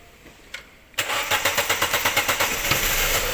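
A car engine with its crankshaft position sensor unplugged cranks with a rapid rhythmic starter whir of about a dozen pulses, close and loud, and has not yet caught and settled by the end.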